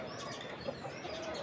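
Native hens in a cage cluck and chirp faintly, a few short calls over a steady background hiss with no talk.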